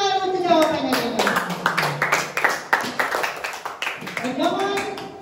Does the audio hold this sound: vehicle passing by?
no